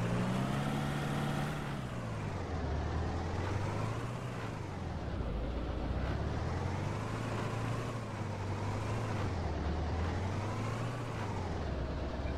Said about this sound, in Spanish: está conseguido el sonido de estos coches